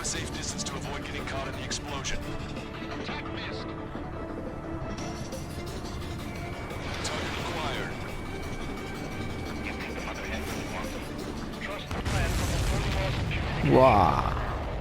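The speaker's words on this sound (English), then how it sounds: "keep a safe distance to avoid getting caught in the explosion" Missile explosions in the Ace Combat 7 video game rumble under a steady bed of game sound and voices, with a heavy boom swelling near the end.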